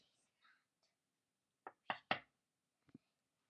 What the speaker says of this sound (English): And I'll hear the knock.